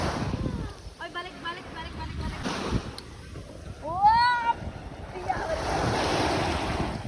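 Sea waves wash up on a shallow shore in a steady broadband rush that swells louder toward the end, with birdlike squeaks and a voice briefly over the surf.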